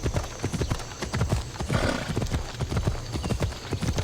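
Horse hooves clip-clop in a video game, a quick, steady run of close, hollow knocks with a short whinny partway through.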